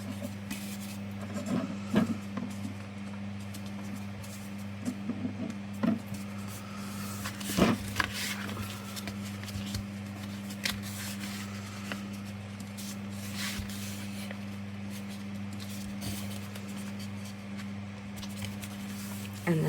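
Close, quiet crinkles and soft scrapes come from a sheet of paper folded a little at the bottom to make a full-page pocket for a junk journal, with brief rustles spread irregularly over a low steady hum.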